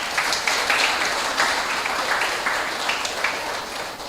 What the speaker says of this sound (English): And I really want you all to give him a round of applause.